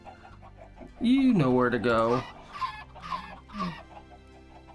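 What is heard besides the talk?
chickens clucking in Minecraft, from a video game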